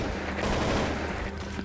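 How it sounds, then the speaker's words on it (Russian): Kalashnikov rifle fire in the zombie video game Zompiercer, a dense, steady burst of gunfire lasting under two seconds, loud and close, with no talking. "Зря я, наверное, калашом выстрелил"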